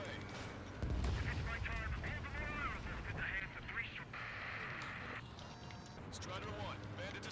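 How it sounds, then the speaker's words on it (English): A missile launch from a fighter jet in Ace Combat 7, a sudden loud whoosh followed by sustained roaring engine noise, layered under radio chatter and game voices. "Missile away."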